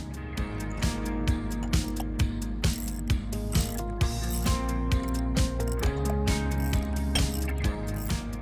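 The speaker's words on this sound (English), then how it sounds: "evenly tighten each set of bolts in a uniform cross pattern" A ratchet wrench tightens the bolts on a termination sleeve in a cross pattern, giving a steady run of rapid metallic clicking bursts that repeat about once per second, close and loud.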